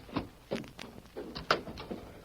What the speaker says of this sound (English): he galloped up, dismounted, and opened the ranch house door